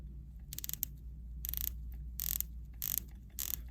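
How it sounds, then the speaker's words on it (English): A Tudor Pelagos 39mm dive watch bezel is turned in short bursts, each a quick run of crisp, close ratcheting clicks separated by brief pauses, quiet and isolated. "Let's listen to the bezel action."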